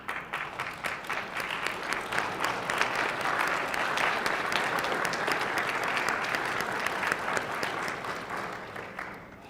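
Sustained applause from people standing in the Hawai'i State Senate chamber, dense clapping that holds steady for several seconds before thinning slightly, with no voices.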